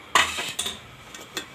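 A metal kadai is set down on a home gas stove before frying aloo kachori, giving a sharp metallic clank followed by a few lighter knocks and clinks, close and alone without talk.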